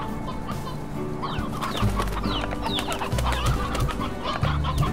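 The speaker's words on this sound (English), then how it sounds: "Okay, chickens." Chickens clucking in the video game Slime Rancher, a steady stream of short, busy clucks and calls layered over a looping music and ambient game soundscape, no talking.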